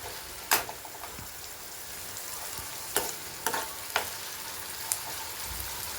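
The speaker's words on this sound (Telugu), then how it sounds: "నూనె కాగాక అందులో మనం కట్ చేసి పెట్టుకున్న ఉల్లిపాయలు, కరివేపాకు వేసి బాగా వేయించాలి." Chopped onions and curry leaves frying in hot oil for a spinach curry, a soft steady sizzle with occasional sharp crackles and pops, no voices.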